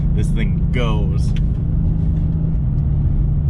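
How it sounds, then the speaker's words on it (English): The AMG engine of a Mercedes-AMG C63 GTS rumbles low and steady from inside the cabin while driving, heard under someone talking. "These engines come from AMG"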